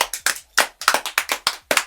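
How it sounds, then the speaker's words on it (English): A few people clap in short bursts during a casual interview show, sharp close handclaps in uneven clusters with brief gaps between them. "one round of applause for Shannon for letting us do this again"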